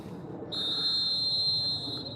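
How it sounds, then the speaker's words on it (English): A single long, shrill referee's whistle blast at a high school boys' soccer semifinal, lasting over a second, loud over faint crowd background noise. "Here's the whistle."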